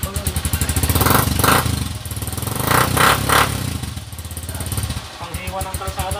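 A motorcycle engine with a damaged pinion gear and clutch housing gear runs steadily nearby with a low, quiet, even rumble, while people talk over it throughout.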